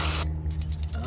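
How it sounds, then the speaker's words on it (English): A can of CRC contact cleaner, used on a 7-way trailer pin connector, gives a loud close hiss of spray that cuts off sharply, leaving a faint engine-like hum underneath. "take some of that CRC spray, contact cleaner, and using that high velocity,"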